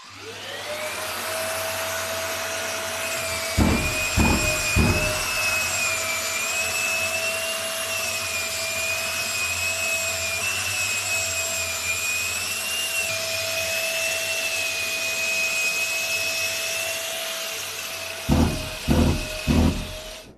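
Bosch drywall sander with dust suction sanding a ceiling, giving a loud, steady vacuum-like whine that runs the whole time, with a few soft thumps near the start and end.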